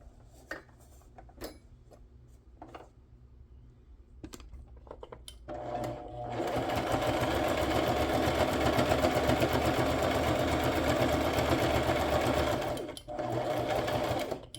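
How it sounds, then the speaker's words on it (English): A few clicks and taps, then a sewing machine whirs into a fast continuous stitching run for several seconds, close and loud, stops briefly, and resumes. "Scoop my sewing machine to me"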